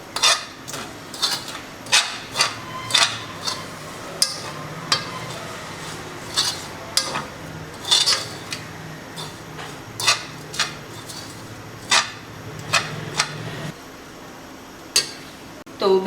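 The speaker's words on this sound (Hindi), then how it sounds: "और आलू बुखारा। अच्छे से मिक्स करेंगे।" Dry biryani masala spices with dried plums being mixed by hand, giving repeated sharp scraping clicks and rattles at an irregular, steady pace, close and fairly loud over a low background hum.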